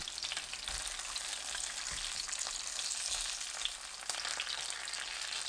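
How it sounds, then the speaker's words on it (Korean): Atka mackerel fries skin-side down in oil in a pan, giving a steady, close crackling sizzle that runs the whole time with no voices. "껍질이 팬 바닥에 먼저 닿도록 껍질 쪽부터 구워줍니다"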